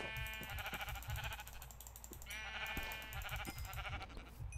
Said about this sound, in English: Oh, sheep. I definitely need these.